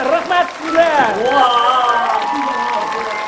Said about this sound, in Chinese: 我再一次掌声送给我们今天的非常爸爸王宏伟老师